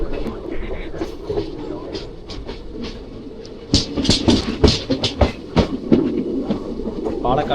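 A train rumbles along the tracks near Palakkad, India, with a steady low roar, then sharper rhythmic clacks and rattles grow louder toward the end.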